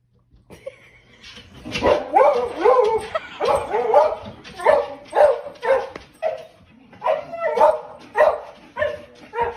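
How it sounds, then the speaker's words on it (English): A dog whimpers and yips while watching horse racing, giving repeated rising whines and short cries in close bursts, loud and near, over faint background sound. "This dog loves to watch horse racing."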